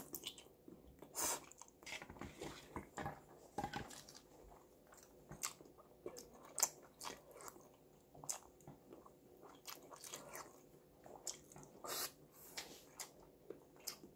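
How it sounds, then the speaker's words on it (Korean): Seafood jjamppong noodle soup being eaten up close, with repeated slurps, bites and wet chewing in irregular bursts and no talking. "한번 먹어볼게요."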